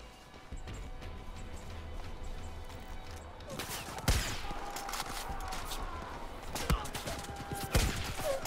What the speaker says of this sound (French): Je pensais pas qu'il y ait des sulfateuses dessus, moi.